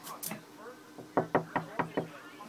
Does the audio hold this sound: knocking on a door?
yes